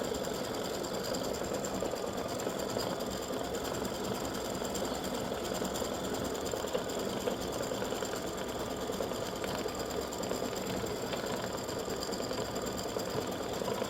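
An embroidery machine stitches a gnome's hat for a freestanding lace Easter egg gnome, giving off an even, continuous mechanical whir and rapid needle chatter throughout, close by and with no talking.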